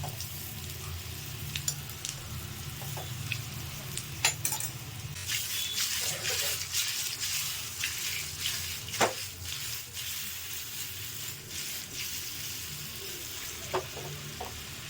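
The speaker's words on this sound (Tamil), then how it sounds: "எண்ணெய் இல்லாமல் இதை வறுத்துக்கணும். இந்த மாதிரி லைட்டாக வறுத்துக்கணும்." Banana snack pieces dry-roast in a pan without oil, producing a continuous soft sizzle close by, broken by frequent light scrapes and taps of stirring.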